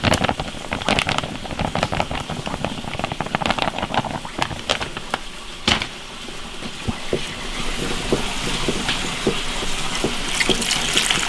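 Water goes into a bowl of egg and flour batter with a little salt and is mixed in. Busy splashing and sloshing comes through with rapid wet stirring strokes, close and fairly loud throughout.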